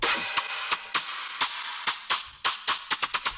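A white noise shimmy effect synthesized in Serum: bright bursts of white noise sweep in a stuttering rhythm, with quick repeated hits that speed up toward the end over a hissing bed.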